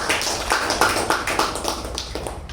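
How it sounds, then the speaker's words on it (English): Meeting audience applauding a speaker, a steady patter of claps with a few sharper, louder hits, moderately close and continuous for a couple of seconds with no talking. "A big round of applause for Toastmaster Sharanye"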